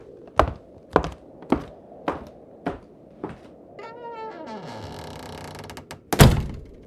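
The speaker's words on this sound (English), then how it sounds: "I'm just gonna go ahead and close the closet door here" A closet door in a haunted-house video game creaks open slowly and then shuts with a sharp thud, after a run of steady wooden footsteps across a quiet room.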